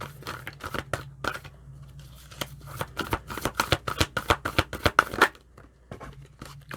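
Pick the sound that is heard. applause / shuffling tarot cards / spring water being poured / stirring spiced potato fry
shuffling tarot cards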